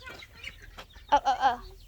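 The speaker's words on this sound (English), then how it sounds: "How about we go show them the turkeys and the Cornish hens?" Leghorn and Cornish hens cluck in a backyard enclosure, a few soft calls followed by a louder cluster of close, throaty clucks near the end.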